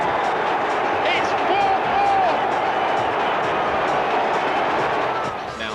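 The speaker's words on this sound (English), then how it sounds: "And the crowd have gone mad." Football crowd roaring loudly and continuously after Joe Cole's goal for West Ham at Upton Park, a dense wall of cheering and shouting that holds steady throughout, with rain coming down.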